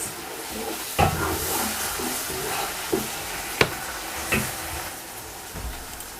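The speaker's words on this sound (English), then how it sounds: "And we are going to start frying it." Steady sizzling and hissing of tomato puree frying in a pot for jollof rice, with occasional clanks of a utensil stirring against the side.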